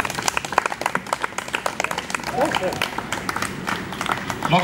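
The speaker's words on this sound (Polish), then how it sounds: "Mogą być wielkie, wielkie brawa." Applause and scattered clapping from spectators at a tennis final, the Morski Turniej Tenisowy Gwiazd, after the longest game of the match; dense hand claps fill the clip while a voice talks over them.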